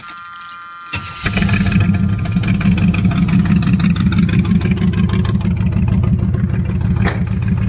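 A 1978 Chevrolet Camaro Type LT, already warm, cranks briefly and then settles into a steady, rumbling idle with a regular low pulsing, close and loud, with no one speaking.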